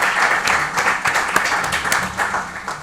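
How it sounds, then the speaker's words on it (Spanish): Audience applause for a guest speaker, don Fernando, at a Catholic talk on public life and ethics: steady, dense clapping from a crowd, fairly close and sustained for about three seconds with no talk over it. "un aplauso para él"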